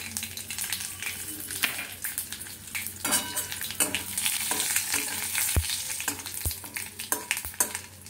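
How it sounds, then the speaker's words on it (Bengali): Mustard seeds, dried red chilli and bay leaf hitting hot oil in a wok for a bitter shukto-style dal tempering, a steady crackling sizzle with sharp pops and occasional scrapes of a spoon against metal. "এবারে আমি কড়াইতে এই যে ফোড়নটা ছিল আমার, সর্ষে, শুকনো লঙ্কা আর তেজপাতা, এই ফোড়নটা আমি দিয়ে দেবো"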